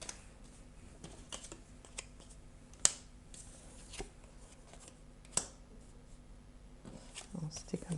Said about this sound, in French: alors je retourne toutes les cartes